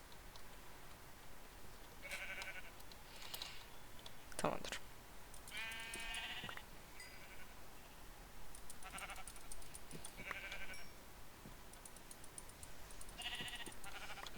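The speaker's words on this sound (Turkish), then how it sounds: "Koyun var." Sheep in the Minecraft video game bleat several times, short nasal calls recurring across the stretch at moderate level over a faint steady background.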